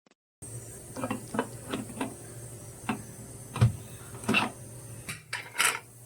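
Metal clicks and knocks as the lid is fitted onto a pressure cooker holding white pumpkin, a series of sharp, close taps and scrapes spaced irregularly over several seconds, with no talking.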